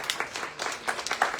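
A small audience at a museum talk on the Catholic laity gives brief, sparse applause, a handful of distinct claps over little more than a second, close and unaccompanied by speech.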